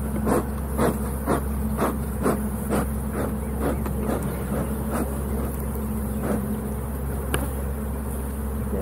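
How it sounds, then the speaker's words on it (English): A bee buzzes close around people standing outside an RV converted from an ambulance, a steady insect drone with repeated sharp ticks and swells as it circles near, with no talking. "have a bee on your back"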